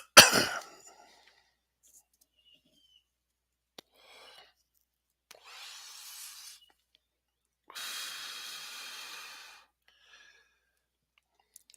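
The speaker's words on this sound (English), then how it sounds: "You're going to hear coughing and hacking. I smoke." A smoker coughing and hacking: one hard cough up close, then scattered breaths and two longer rasping, wheezy exhales, with quiet gaps between and no talk.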